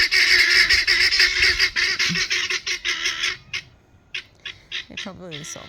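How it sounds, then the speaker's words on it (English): Guinea fowl cry loudly and nonstop in a dense, harsh chorus of rapid honks, then thin out into scattered squawks and a wavering call near the end. "chaos in guinea fowl world"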